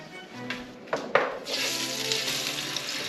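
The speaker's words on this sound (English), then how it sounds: "So this pan, got the oil hot. It's ready." Fish dropped into hot oil in a pan for fish tacos, a few soft clatters and then a sudden swelling sizzle that stays steady and close, with no talk.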